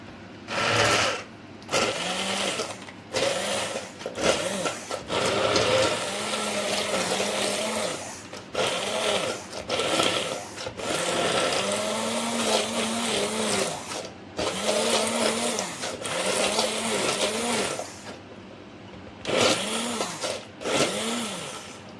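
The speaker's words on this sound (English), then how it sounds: "Now we need to blend this with a hand blender." A hand blender purées tomato soup in repeated bursts, starting and stopping over and over, loud and close, with short pauses between runs and no voices.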